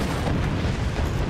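A cannon firing in the Forts video game, a sustained, dense, loud explosive roar filling the moment with no talk.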